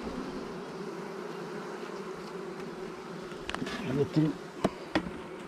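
Honey bees buzz steadily around a beehive while frames are being placed, a continuous droning hum with a few closer bees passing by, plus some handling knocks and a brief spoken word near the end.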